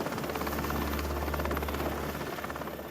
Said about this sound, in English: The next thing I hear is the helicopter overhead.